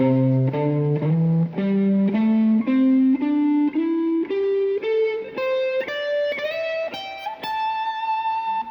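Overdriven electric guitar notes climb step by step in an even scale, each note ringing clearly, loud and up close.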